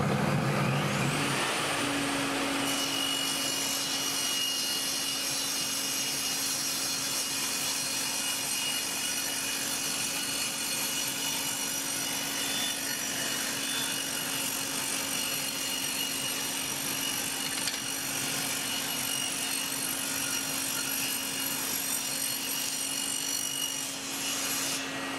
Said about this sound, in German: Und dann sägen wir es einmal durch.